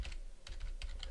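A few quick keystrokes on a computer keyboard while entering a web address into a browser, short bursts of close clicks separated by brief pauses, with no talking.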